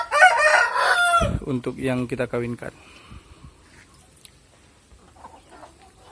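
Ayam ketawa chickens crow loudly in a coop, a long rolling call with fainter clucks trailing after, while someone speaks over the crowing.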